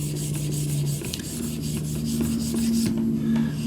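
Knife blade being sharpened on an 1100 grit stone in an Edge Pro Apex guided sharpening kit, a continuous gritty rasping scrape with repeated back-and-forth strokes, close and moderately loud, with no voices.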